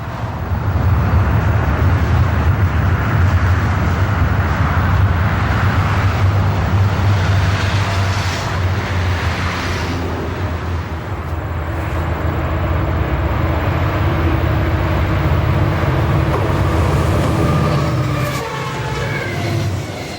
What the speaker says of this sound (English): Chicago to Kearney, New Jersey bound TV12 races past our camera at a location east of Conway.